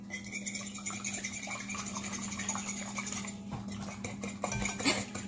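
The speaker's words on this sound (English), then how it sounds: "Whisk." A whisk beats eggs in a bowl, a rapid, close metallic clatter and scrape that runs continuously and grows busier toward the end, over a steady low hum, with no talking.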